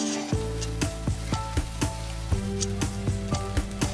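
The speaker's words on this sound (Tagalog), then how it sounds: "Haluin lang natin ng maayos hanggang ma-mix ang scrambled egg dito sa ating fried rice." A spatula stirs egg fried rice with scrambled egg in a hot pan, giving a steady sizzle punctuated by about a dozen sharp, close scraping clacks in an uneven rhythm.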